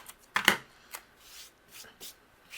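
A tape runner lays adhesive onto paper while a handmade holiday card is assembled. It gives a few quiet, short rasping bursts, with one sharper pair near the start, and no talking.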